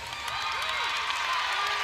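A crowd cheers loudly at a college gymnastics meet, with BYU and West Virginia at Utah. The cheering is a dense, even wash of voices, and a broadcast voice talks over it.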